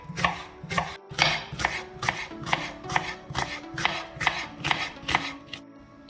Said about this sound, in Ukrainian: І ріжемо його на такі тоненькі шматочки.